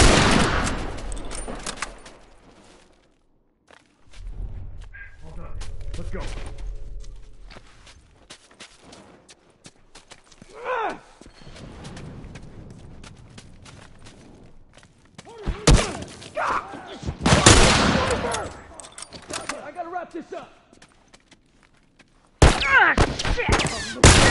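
Rifle shots in a video game crack out in a few sharp, loud bursts scattered among quieter stretches of footsteps, thuds and background game noise.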